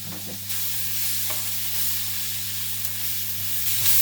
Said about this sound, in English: So we're just going to let that sweat away in the pan.